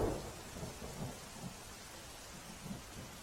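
Heavy downpour in Navsari, Gujarat, with low thunder rumbling through a dense, steady roar of rain; no voices, the storm sound stays continuous and fairly even throughout.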